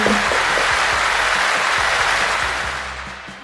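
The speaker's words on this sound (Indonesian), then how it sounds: "Tepuk tangan untuk kita semua." Classroom applause from students during a microteaching lesson, a short burst of clapping that holds steady, then thins and fades toward the end.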